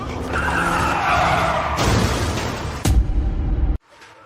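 A car speeds around a parking garage level with squealing tyres and a harsh skidding roar, then a sharp bang before the noise cuts off abruptly into near silence.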